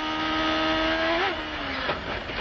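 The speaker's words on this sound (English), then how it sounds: "Now you ride on board Vasser's car, looking to the rear" A CART race car's engine at the start of the 1996 Michigan US 500, heard on board: a steady, buzzing high-pitched drone with a sudden pitch dip and wavering toward the end, loud and alone.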